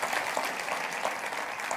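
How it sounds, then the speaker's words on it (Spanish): A congregation at a Spanish-language church service applauds, a full, even round of clapping with a few sharper claps standing out, sustained throughout. "Den ese aplauso al Rey bendito."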